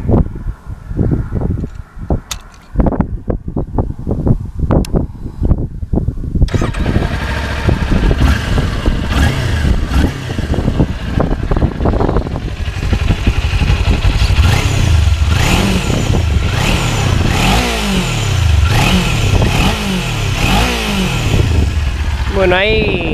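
A 2021 Kawasaki Ninja 400 motorcycle engine starts after several sharp clicks and clatters, then idles and is revved up to about 6000 rpm in rising and falling pulls, loud and close.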